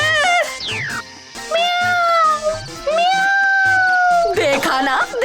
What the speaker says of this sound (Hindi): खुशबू सूंघते ही बिल्लियां आ गई है यहाँ पर